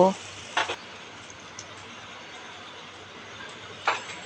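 Ginger and garlic paste frying in oil for a chicken tikka biryani, a steady hissing sizzle punctuated by a few short stirring scrapes.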